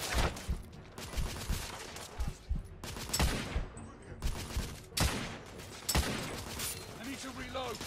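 Heavy gunfire in The Order: 1886 video game comes as repeated bursts of rapid shots in uneven clusters, loud and close. Sharp single cracks come between the volleys, and a voice can be heard speaking over part of the firing.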